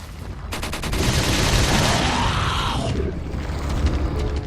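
Rocket launcher fire in Resident Evil 4 on professional difficulty during a boss fight, a loud sustained blast and roar that swells and rumbles for several seconds, with no talk over it.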